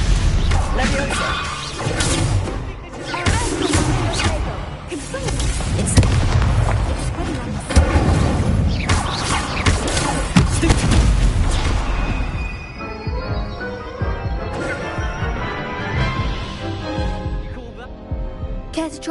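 Spell effects from Hogwarts Legacy on PS5, with fire, stunning and levitation casts, crackle and boom in dense overlapping bursts with whooshes and impacts across the clip, thinning toward the end.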